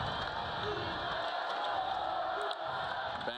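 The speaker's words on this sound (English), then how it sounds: "listen to the crowd cheering on there" Stadium crowd at a Jax State versus Eastern Michigan college football game, a broad, sustained roar of cheering with a commentator's voice over it.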